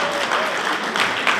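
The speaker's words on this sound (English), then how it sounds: "Let's give a round of applause for Jennifer," An audience at an awards ceremony in Zimbabwe claps steadily and thickly, with a voice briefly audible over the patter.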